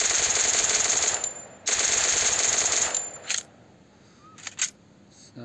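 Bursts of rapid automatic gunfire from a video game, two long sustained volleys followed by a few short scattered shots, loud and close with brief gaps between.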